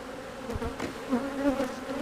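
Honey bees from a laying worker hive buzz close by in a continuous droning hum, with individual bees swelling louder as they fly past.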